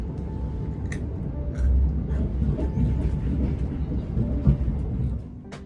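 A London local overground train rumbles along its rails, a steady low, loud rolling roar heard from inside the carriage, with occasional rattles and a brief clank before the noise eases at the end.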